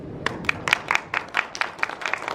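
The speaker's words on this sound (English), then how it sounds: "I would like to ask all of these classmates to give a round of applause to both" Classmates at a university classroom debate give a round of applause to both teams, a short burst of scattered, uneven hand claps from a small group.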